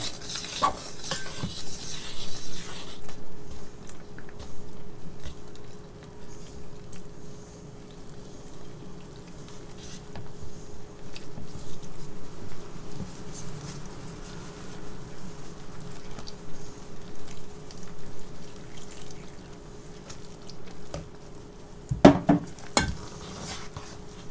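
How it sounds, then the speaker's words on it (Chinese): Chopsticks stirring water into flour in a mixing bowl to make Shandong steamed bun dough, a soft, steady wet stirring and scraping that continues throughout at low volume, with a few sharper knocks near the end and no voices. "用筷子一样，用筷子把它搅拌成面絮状，大面絮状啊"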